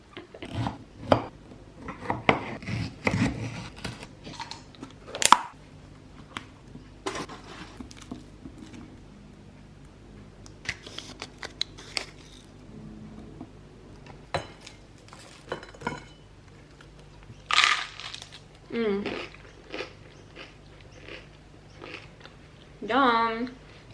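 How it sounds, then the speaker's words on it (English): Crunchy bites and chewing of yellow sourdough bread repeat up close, irregular crisp crackles with quiet pauses and light clatter between. "It was such a good crunch. This is like this yellow sourdough."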